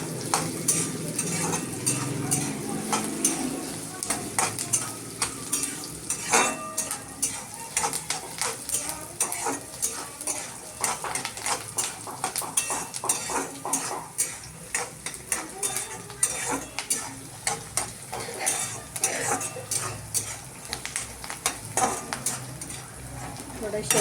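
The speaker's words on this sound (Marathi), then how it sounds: "त्याच्यामध्ये शेंगदाणे पण टाकते, जरा शेंगदाणे थोडे भाजले पाहिजे।" Peanuts roast in a pan while being stirred, a steady dry sizzle broken by frequent scraping and clinking of a spoon against the metal, loud and close throughout.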